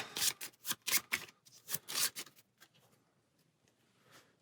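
Cards for the Hellboy board game being shuffled, a run of crisp, close papery riffling bursts over the first two and a half seconds, then near quiet with a few faint rustles.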